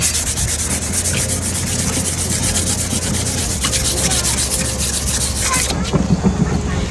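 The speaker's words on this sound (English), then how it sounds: "the only high grit that I had was a 600, which is very, very fine." A particle board dresser is hand sanded with very fine 600 grit sandpaper, producing a loud, continuous close rasping rub in quick back-and-forth strokes, steady throughout.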